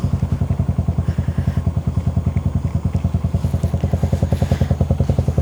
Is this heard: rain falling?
no